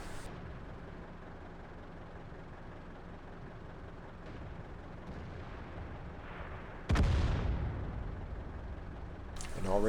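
Tank guns fire in the World of Tanks game: a muffled background rumble, then a sudden heavy cannon boom about two-thirds through and another blast near the end, with a voice talking underneath.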